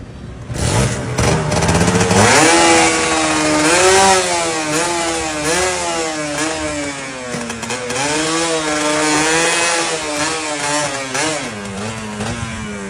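A motorcycle engine runs steadily up close, its pitch rising and falling as the throttle is blipped repeatedly, loud and continuous throughout.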